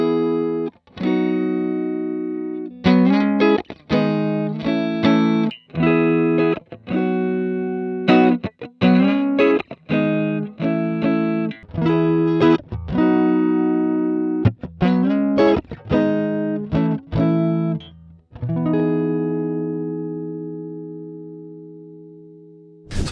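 Electric guitar played through Valeton GP-150 and GP-180 multi-effects units rings out in a series of distorted chords and sustained notes, played in rhythmic bursts with short gaps and a long final ringing chord.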